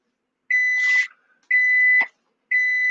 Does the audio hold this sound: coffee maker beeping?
yes